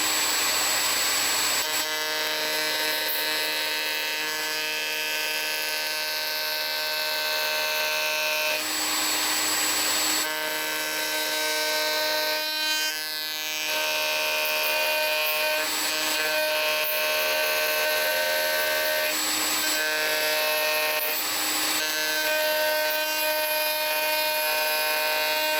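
Wood router with a copying bit shaping hard ash pieces for restoring an old cart, a loud, steady high whine running continuously throughout with slight dips in load, no talk.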